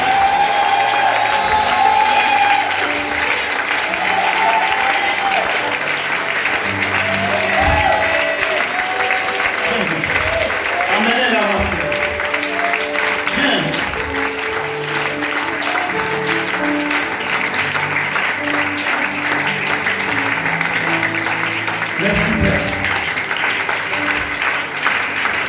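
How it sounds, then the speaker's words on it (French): A church congregation at an evangelistic service breaks into loud, sustained applause that rolls on steadily with some crowd noise and a few louder bursts. "Est-ce qu'on peut l'acclamer encore très fort?"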